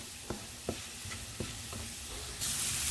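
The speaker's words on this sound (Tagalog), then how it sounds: "Maglagay na ako ng mantika sa kawali. Unahin natin ang garlic" Garlic sautéing in cooking oil in a pan, a low steady sizzle broken by a few sharp stirring knocks, ending in a louder hiss.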